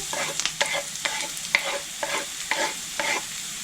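Onion and carrot sizzle in a hot pan while being stirred, with quick scraping strokes repeating roughly twice a second over the crackle.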